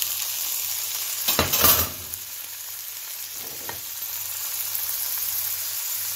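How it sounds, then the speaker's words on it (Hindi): Vegetables hit a pan of hot oil, three to four spoonfuls, with a sudden loud hiss and splatter. A steady, softer sizzle follows, broken by a brief burst near the middle. No talking. "अब इसके अंदर सब्जी जो है उसको फ्राई करेंगे।"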